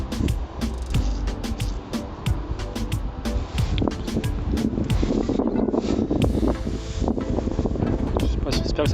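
Gusty wind buffets the microphone outdoors during metal detecting, a rough rumbling roar with sharp bumps and handling knocks, and a voice speaks briefly underneath.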